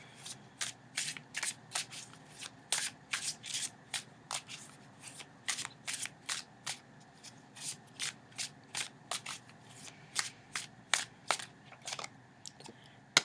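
Tarot cards being shuffled up close, a quick series of crisp riffling snaps repeating steadily at a moderate volume.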